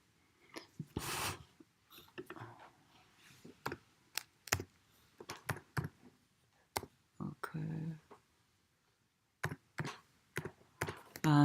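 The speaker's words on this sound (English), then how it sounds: "I can type that in." Computer keyboard typing during a meditation group webinar, delivered as irregular bursts of close, fairly loud keystrokes separated by short pauses, with no talking over them.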